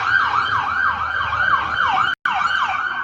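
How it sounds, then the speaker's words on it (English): Ambulance siren wailing in a steady repeating rise-and-fall pattern, loud and continuous as it passes outdoors, with a brief dropout near the end. "You can listen to the ambulance."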